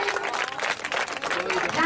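Audience applause at a school-style event, a continuous wash of many hands clapping together, steady and fairly loud throughout with a voice speaking over it.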